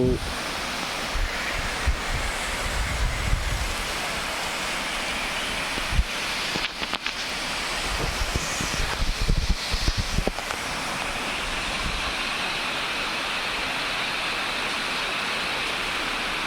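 Water pours steadily at a waterfall by the Siddha Ramappa pond at Srisailam, a broad continuous rushing roar with some wind buffeting the microphone early on.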